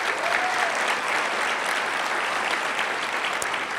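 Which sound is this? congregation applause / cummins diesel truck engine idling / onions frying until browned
congregation applause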